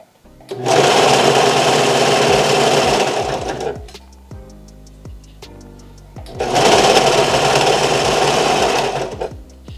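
A Vevor industrial sewing machine runs in two loud, steady bursts of a few seconds each, with a pause between them filled with clicks and mechanical ticks, heard close and alone.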